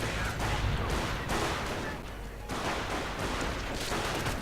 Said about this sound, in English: And mortar firing in support still, but not quite managing to do much this time around.